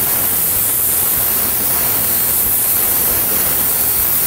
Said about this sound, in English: I'm using about 40 pounds of pressure right now on my airbrush